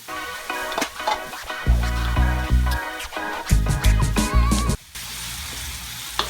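Ham sautés in a hot pan, sizzling and popping loudly in bursts, with occasional clinks of utensils and a brief quieter pause near the end.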